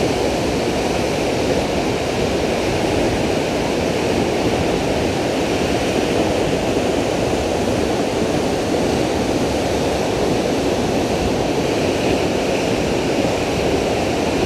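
A waterfall roars as a dense, steady broadband rush of falling water, loud and close, unchanging throughout with no voices.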